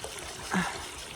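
Hot water trickles steadily into a 2x2x6 stock tub used as a propane-heated hot tub, a soft continuous flow with a brief splashier swell midway.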